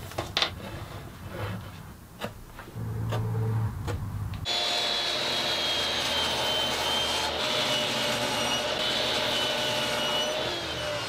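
A table saw rips cherry wood into strips about 1.5 inches wide for picture frames. A few knocks come first, then a steady, loud, whining cut roars on without a break.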